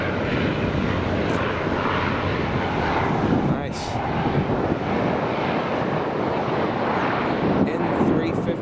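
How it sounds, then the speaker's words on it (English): A private propeller plane drones steadily nearby as it lands, a continuous broad engine roar with a brief spoken word partway through. "It's like another private plane."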